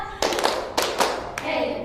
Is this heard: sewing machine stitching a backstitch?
no